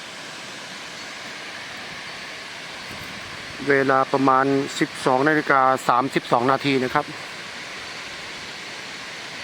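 Khlong Lan waterfall in Kamphaeng Phet, water dropping from a cliff with reduced dry-season flow, gives a steady, even rushing hiss throughout while someone talks over it in the middle.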